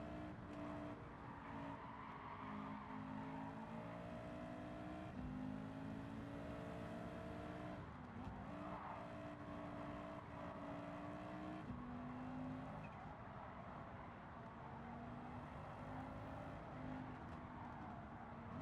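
A race car engine in Gran Turismo 7 drones steadily and loud throughout, its tone rising and dropping through gear changes, with occasional tire squeal and no talking.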